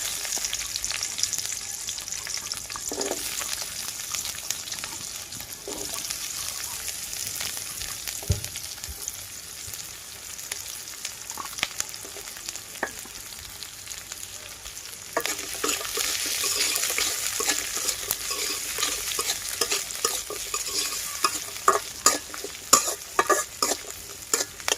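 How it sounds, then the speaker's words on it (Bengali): Onions fry in a pan over a village cooking fire, a steady sizzle running throughout with intermittent scraping and stirring strokes, growing brighter and louder in the second half, no voices. "পেঁয়াজটাকে হচ্ছে কিছুক্ষণ ভেজে নিব"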